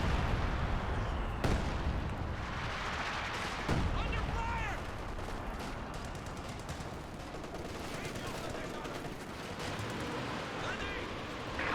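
Nebelwerfer rocket artillery fires in the Company of Heroes 2 Lanzerath Ambush map during a 4v4 match, sharp blasts and booms punctuating dense continuous gunfire and explosions, with a commentator talking over the battle.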